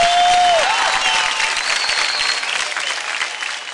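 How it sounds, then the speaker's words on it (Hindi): A dance competition audience claps loudly and continuously, the applause gradually fading a little toward the end. "सो जोरदार तालियों से"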